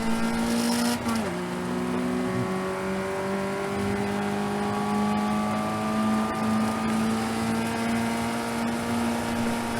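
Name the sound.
race cars passing on track at Donington Park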